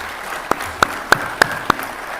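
Applause at the Special Lok Adalat 2024 comes as five sharp, evenly spaced claps, close and distinct against a quiet room background, as court officials are introduced.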